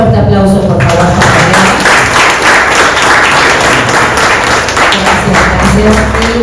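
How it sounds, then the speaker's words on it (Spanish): Audience applause at a literary talk event, a dense steady clapping that carries through the whole stretch, mixed with voices talking over it near the start and end. "Un fuerte aplauso, por favor."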